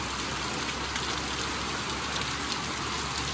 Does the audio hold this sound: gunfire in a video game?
no